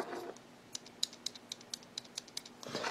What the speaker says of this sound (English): It makes noises, and so that's one of the flaws in the microphone build.